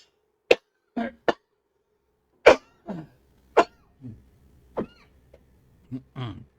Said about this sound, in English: The normal obligatory coughs during stream.